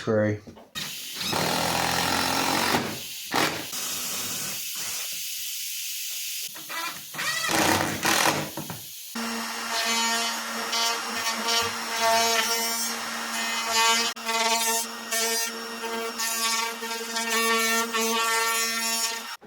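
A power driver drives screws into wooden blocks during a boat rudder build, a loud whirring buzz that holds steady through the second half, after earlier bursts of work noise and talk.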